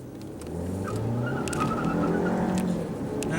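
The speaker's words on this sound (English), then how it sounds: "As you can see, that turbo 4-cylinder does get up and move." A 2016 Ford Escape with a 1.6 L turbo four-cylinder pulls hard on the road, its engine note climbing steadily and loudly over a few seconds with faint tire and road noise and no talk.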